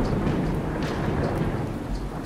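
Thunderstorm in the Miscreated video game, with steady heavy rain and low rumbling thunder rolling underneath, a dense continuous wash of sound with no voices.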